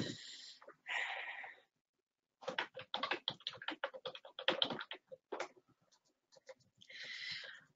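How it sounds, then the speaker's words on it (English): Quick bursts of clicky keystrokes on a computer keyboard while typing a chat message, fairly faint, with short breathy pauses between runs of keys. "I'm just typing in chat to Shayna to let her know I'm talking"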